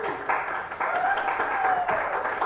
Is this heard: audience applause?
yes